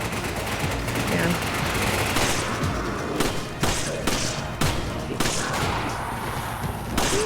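Rapid gunfire from a video game shooter, dense bursts and sharp shots running almost continuously under people talking and reacting.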